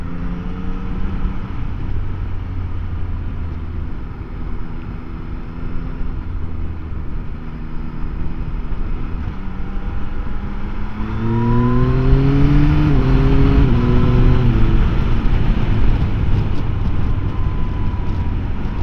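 A 2024 Yamaha XSR900 GP motorcycle engine drones steadily while being ridden, then swells louder with rising revs and quick pitch steps as it accelerates through the gears, holding a strong up-close roar to the end.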